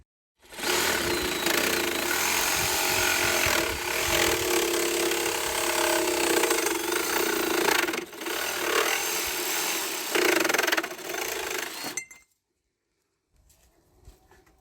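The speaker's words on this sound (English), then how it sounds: "The second way to cut is with a jigsaw. So here we're using a cordless jigsaw." A cordless jigsaw fitted with a fine metal blade cuts through a DuraPost aluminium capping rail, giving a loud, continuous rasping buzz with slight dips in pace for about twelve seconds, then stopping abruptly into near silence.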